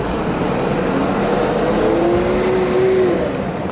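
A 1973 Mercedes-Benz W108 280SE engine revs up hard, loud and close, climbing steadily in pitch as the old sedan accelerates, with a rising whine near the end and no voices.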